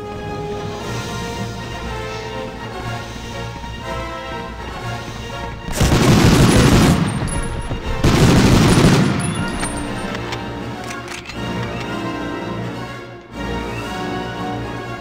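Two heavy bursts of rapid gunfire from the 1999 PS1 game Medal of Honor, each lasting about a second and a half with a short gap between them, loud over a steady orchestral game score.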